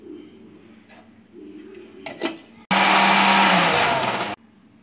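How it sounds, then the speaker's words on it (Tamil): A kitchen mixer grinder blends mint, coriander, green chillies and ginger in one loud, steady whirring burst of about two seconds, starting and stopping abruptly after quieter background noises. "இதெல்லாம் மிக்சியில் நம்ம அரைச்சிக்கலாம்."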